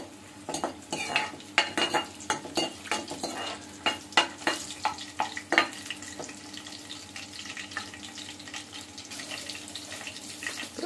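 Garlic fries in a pan with a soft continuous sizzle, while a utensil stirs and scrapes in a steady repeated rhythm, close and fairly quiet, with no voices.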